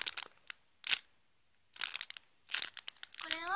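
A handmade Donald Duck donut squishy toy, made with glue and glass paint, is squeezed in several separate bursts of crinkly, crunchy rustling with short silences between them, close and fairly loud.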